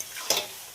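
Chicken masala with yogurt, Kashmiri chilli, capsicum and tomato frying in a pan, a soft steady sizzle with one brief scrape of a stirring spoon near the middle, close and quiet, with no voices.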